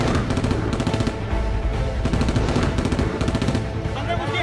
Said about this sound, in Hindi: दोनों तरफ से जो है गोलियां चलनी सुनाई दे रही है